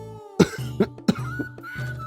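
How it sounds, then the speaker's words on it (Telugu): An old man coughs several times in quick, harsh bursts, rough and close, with strained breathing between the coughs. "ఆ తాత దగ్గుతూ ఆయాసపడుతూ చెప్పాడు"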